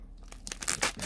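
A blade slices open a cardboard package box, a brief scraping and tearing rasp that grows louder toward the end, close and with no talking.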